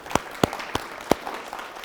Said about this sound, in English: Let's do applause.